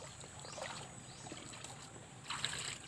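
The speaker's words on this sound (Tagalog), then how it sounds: "Tapos may bukal din dito banda." Spring water trickles and burbles beside a river, soft and fairly faint, with a few brighter splashy gurgles and a swell of flow near the end, no voices.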